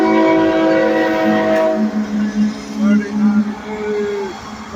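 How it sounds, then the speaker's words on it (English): A northbound, fully loaded coal train passes close and loud, its horn blaring in long sustained tones that give way to a wavering rumble of rail cars. "Northbound fully loaded coal train headed to the ocean"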